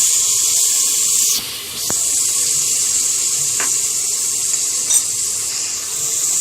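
Vermicelli cooks in a pan with red chili, turmeric, garam masala and half a cup of stock, giving a continuous bright steamy hiss with a couple of soft clicks and knocks along the way.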